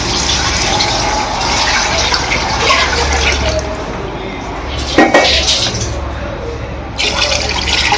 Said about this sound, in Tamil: ஸோ நான் வந்து இங்கே 2 செம்பு ஊற்றுறேன்.